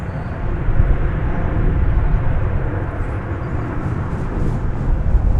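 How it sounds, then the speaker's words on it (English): A jet airliner on the flight to Vancouver at DFW Airport gives off a loud, steady broadband roar with heavy low rumble, holding continuous for the whole stretch. "here's the flight going to Vancouver"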